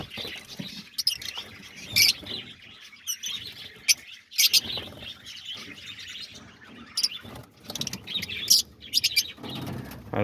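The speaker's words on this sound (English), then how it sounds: "There's all the lovebirds right there. They're hanging around." Lovebirds around backyard bird feeders, with bright chirps and tweets scattered across the scene, some close and sharp, others fainter, plus brief soft flutters of wings as birds take off, with no talking.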